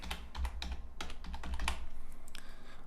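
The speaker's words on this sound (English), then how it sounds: "type in 3 to 5 comma separated keywords that are relevant to your actual page" Close, brisk keystrokes on a computer keyboard, an uneven run of clicks lasting a few seconds with no voice over it, entering comma-separated keywords into a meta tag field.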